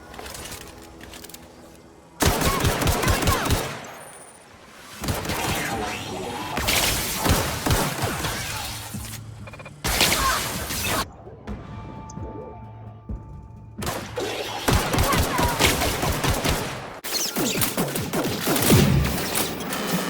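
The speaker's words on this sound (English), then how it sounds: "Yeah, let's try this grenade launcher." Grenade launcher fire in The Outer Worlds, heard as several loud, abrupt blasts and crashing thuds in separate bursts, broken by short quiet gaps.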